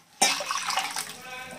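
Water mixed with ground masala is poured into a pan while cooking kollu (horse gram) rasam. A sudden, close rush of liquid starts and keeps splashing steadily until the end, with no voices.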